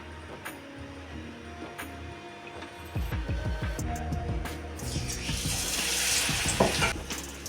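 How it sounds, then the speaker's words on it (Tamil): Batter-dipped broccoli dropped into hot oil for deep-frying: a soft lead-in with background music, then a bubbling sizzle that bursts in and grows louder and denser. "எண்ணெய் சூடானதும் ப்ரொக்கோலியை மாவில் முக்கி எண்ணெயில் போட்ட வேண்டியதான்"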